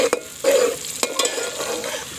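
Tomatoes cooking in a hot pan while a spoon stirs them, a close sizzle with a few sharp scraping clacks of the utensil against the pan.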